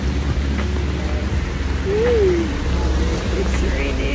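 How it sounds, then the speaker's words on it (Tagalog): Steady rain falls as a constant loud hiss close by, with a brief tonal whine rising and falling partway through. "It's raining."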